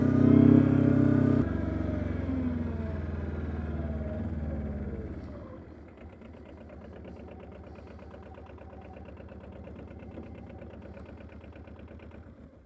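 A Polaris Diesel 455 and an Arctic Cat 700 D UTV sitting side by side in two-wheel drive. A loud engine roar fades to a steady, mid-pitched idle with a fast, even throb.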